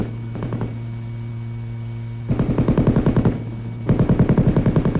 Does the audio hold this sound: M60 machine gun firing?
yes